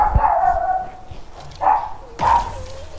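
A dog barks a few times in short separate yelps, fairly close, with faint background noise between barks; the dog keeps barking despite shock collars.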